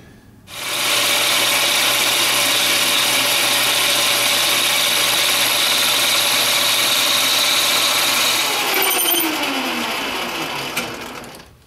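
A small lathe turns a plastic workpiece for a fountain pen, its motor starting up into a steady high whirring drone with a fine cutting hiss for about eight seconds, then the tone shifts and winds down as the machine slows, close and without talking.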